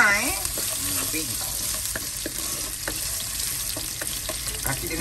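Ginger sautéing in a pan with a pinch of salt, a loud, steady crackling sizzle that runs without a break, with a few brief faint tonal sounds near the start.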